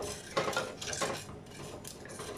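Cumin seeds crackle in a hot clay pot on a switched-off stove, a dense, hissing patter with a few sharper pops, close and fairly quiet.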